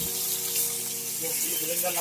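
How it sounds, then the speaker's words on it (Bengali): Fish for doi rui sizzles in hot mustard oil in a pan, a continuous soft frying hiss with faint bubbling, close and steady, under a faint background hum. "এখন প্যানে সর্ষের তেল গরম করে ভালো করে মাছগুলিকে ভেজে নেব।"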